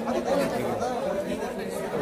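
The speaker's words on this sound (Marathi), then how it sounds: "लिफ्टला पण भरपूर गर्दी आहे." Steady crowd chatter from a packed queue at the lift of Murdeshwar temple, with many overlapping voices forming a continuous, fairly loud babble close by.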